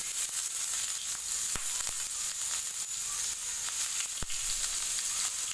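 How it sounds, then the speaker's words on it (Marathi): Chopped onion sizzles in hot oil in an iron pan as a goat-head curry is prepared, a steady close hiss with a few sharp crackles. "मी तेल टाकलेलं आहे तव्यामध्ये तेल टाकलेलं आहे कांदा टाकून घ्यायचा आहे आपल्याला"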